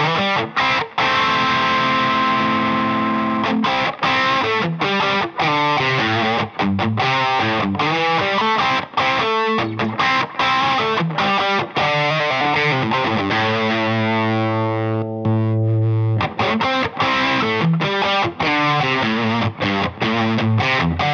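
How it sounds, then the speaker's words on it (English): An electric guitar runs through a Formula B Fuzz Rangers fuzz pedal, giving a big, round, saturated fuzz tone with thick low end. The guitar plays continuous riffs and sustained chords, loud and upfront, with no talking. "it's gonna be a really, really sweet big fuzz sound."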